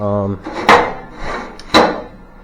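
Wooden drawers in a remodeled trailer slide shut twice, each a short, firm thud-and-slide knock; a person speaks briefly just before the first.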